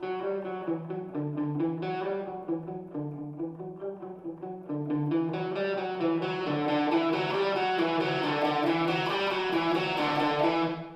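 A distorted electric guitar plays a looping riff of sustained, overdriven chords, held close and steady throughout; partway through it swells louder and brighter with heavier gain, and no voices are heard.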